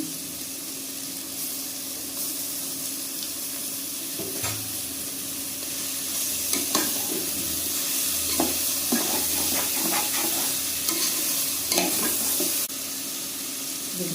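Tomatoes tossed into a pan with sautéed green peas for millet (varagu) vegetable biryani, giving a steady moderate sizzle with scattered stirring clicks and scrapes that grow busier midway.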